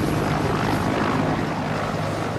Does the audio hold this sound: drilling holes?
no